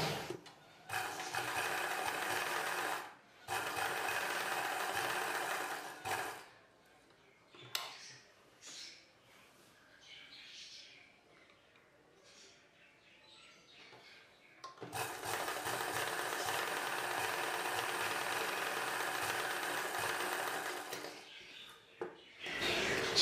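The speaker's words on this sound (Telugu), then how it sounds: "పైవైపున కట్ చేసుకున్న ఈ పీస్ని డ్రెస్ పీస్ పైవైపున పెట్టి కుట్టు వేసుకోవాలి." A sewing machine stitching pieces of dress fabric runs in a long steady whirring burst, stops for a quieter stretch of handling noises, then whirs again at length, close and loud.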